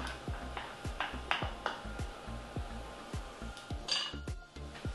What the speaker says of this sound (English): I'm gonna stir that up until the onions are translucent.